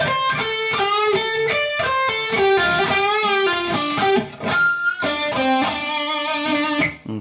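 Distorted electric guitar plays a slow lead phrase from a solo, a sustained string of bent and held notes, loud and up close, with a brief dip before the final run.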